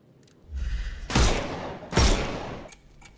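Gunfire rings out in the Sherlock Holmes Chapter One game: a rumbling build-up, then two loud, sharp shots about a second apart, each trailing off in a decaying echo, with no voices.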